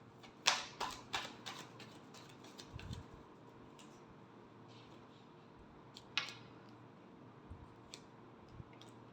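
Tarot cards are shuffled by hand in a quiet room, giving a few quick papery riffles and taps, with a cluster of soft snaps early on and another near the end, over a low steady background hum.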